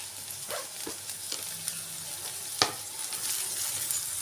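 Onions, beans and carrots frying over a high flame for paneer fried rice: a steady close sizzle with scattered soft stirring clicks and one sharper scrape of the spatula, no voices.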